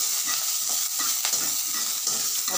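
Steady sizzling of finely chopped betel leaves sautéing in a pan with occasional stirring scrapes, close and continuous, no voices.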